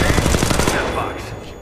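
Rapid automatic gunfire in the Apex Legends Mobile video game, a dense burst of close, loud shots that fades after about a second, with a voice faintly underneath.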